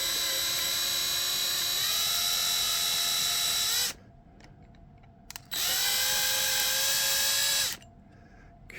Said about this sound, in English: These rivets are pretty easy to drill out.